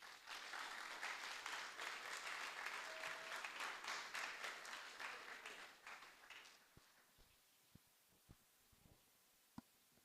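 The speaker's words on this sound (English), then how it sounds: "Another round of applause for Dr. Peter Boahen." A conference audience applauds loudly for several seconds after a speech, then the clapping thins out and fades, leaving a few scattered claps and quiet.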